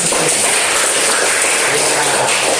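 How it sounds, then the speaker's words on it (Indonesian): Schoolchildren clapping in a classroom, a dense, continuous patter of applause that fills the short moment at a steady level. "Iya, tepuk tangan."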